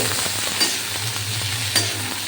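Potatoes, onions and vegetable stems fry in a pan with a steady, close sizzle and occasional scraping stirs, with no talking.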